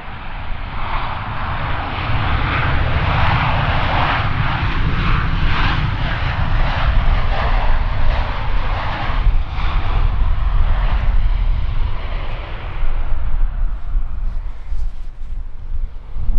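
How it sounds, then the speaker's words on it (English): Boeing 777 jets landing back to back on runway 18C at Schiphol Airport in a crosswind under low cloud, a loud, steady engine roar heard from nearby that holds throughout and fades slightly near the end. "swing back to runway 18 center for the 777s, back to back landing"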